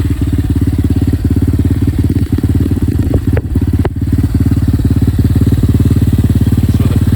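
A Magician 250 motorcycle engine runs loudly and steadily up close with a throbbing idle pulse and a couple of brief clanks partway through.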